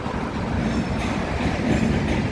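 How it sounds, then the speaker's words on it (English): A train crosses a river bridge in Glasgow, slowing toward Glasgow Central, with a steady broadband rumble and a wheel clatter that holds close and loud throughout. "there's a train just going over the bridge, slowing down as it approaches Glasgow Central"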